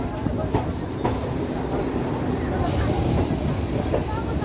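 A local train on the Howrah to Tarapith line pulling into Bolpur Shantiniketan station, a loud steady rumble and rattle heard from on board, continuous throughout.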